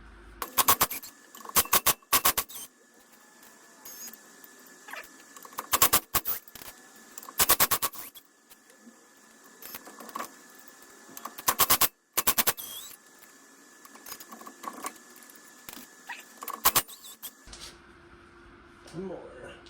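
Ratchet turning a chrome socket, heard as repeated short bursts of rapid clicking separated by pauses, fairly close and crisp, with a faint steady hum underneath.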